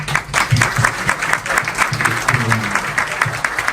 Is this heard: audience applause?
yes